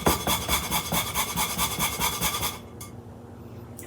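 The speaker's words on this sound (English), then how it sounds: "So we're just going to grate in some of that nutmeg." Whole nutmeg grated on a microplane over sourdough granola ingredients: brisk, rhythmic rasping strokes, close and steady for about two and a half seconds, then stopping into near quiet.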